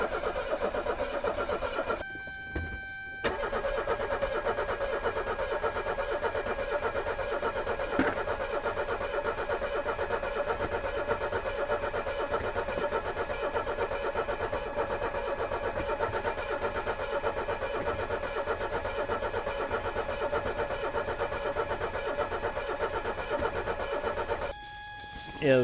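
A 1984 Mercedes 300SD turbo diesel, unstarted for years, cranks at length with a steady droning starter whir, briefly cutting out near the start and again near the end.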